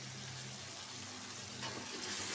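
Shrimp frying in a spice paste in a pan, heard as a soft, continuous sizzle that is quiet and even, rising slightly toward the end.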